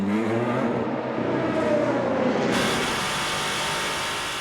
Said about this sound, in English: Number 8 Toyota at speed on the straight